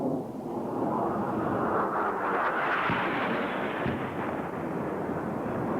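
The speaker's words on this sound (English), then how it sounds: "The second Harrier is in his run now." A Marine Corps AV-8B Harrier jet on an attack run at a 1992 Camp Lejeune, North Carolina exercise, a loud continuous roaring rumble that swells through the middle, with faint distant thuds and no talking.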